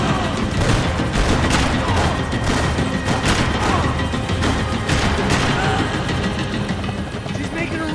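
Rifle fire in the video game Max Payne 3 during a chase, a dense loud barrage of shots and crashes over engine or rotor noise, with shouting voices mixed in.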